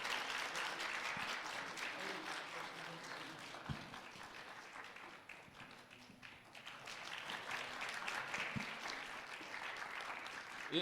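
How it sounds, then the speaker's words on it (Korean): A congregation at a Sunday service in a university church claps steadily for about eleven seconds, a moderately distant wash of hands with a few sharper taps and a brief dip midway. "우리 선물 받으실 때 크게 한번 박수로 축복해 주시면 좋겠습니다."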